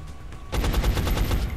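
Rapid bursts of gunfire in the video game XCOM: Enemy Unknown, a loud dense volley of repeated shots that starts abruptly after a quiet moment and keeps rattling on.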